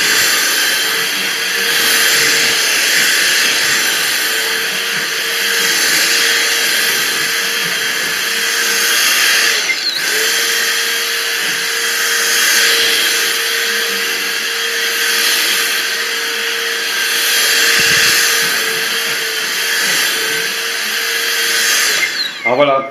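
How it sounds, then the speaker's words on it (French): Vacuum cleaner running over a mattress, a loud steady whine and whoosh held continuously with slight swells as the nozzle moves, ending with a short clatter. "aspirez correctement, doucement avec l'aspirateur, il faut lui laisser le temps de récupérer toutes les saloperies qu'il y a dessus"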